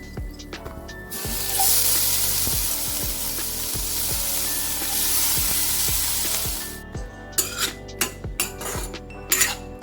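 Spices with red chili powder are sautéed in a pan with the gas turned off, giving a soft hiss and sizzle under repeated clinks and scrapes of a spoon against the pan, with sharper metallic knocks near the end.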